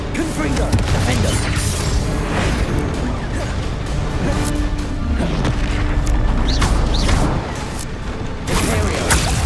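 Repeated booming blasts of the Confringo spell in Hogwarts Legacy burst in quick succession amid dense, loud combat noise, with a voice calling out over it.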